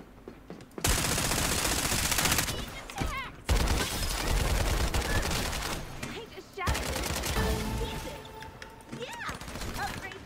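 Gunfire in the video game Farlight 84, with long sustained bursts of rapid automatic fire broken by short pauses and mixed with in-game effects, loud and continuous across the clip.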